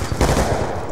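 Rapid gunfire in a Black Ops 2 free-for-all match, a dense burst of shots rattling steadily through the whole short moment with no talk over it.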